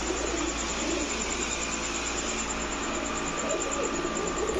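Giribaz high-flyer racing pigeons, kept in colour-matched male and female pairs, coo faintly and steadily beneath a dense, hissy background wash, with no voices.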